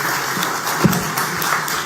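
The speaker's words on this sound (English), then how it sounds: "Media friends, join me to give a round of applause to Datuk Sri for his energy and leadership" A round of applause at a press conference after the 58th ASEAN Foreign Ministers' Meeting: steady, diffuse clapping from a room of media members, moderate and even throughout, with a slightly stronger burst near the middle.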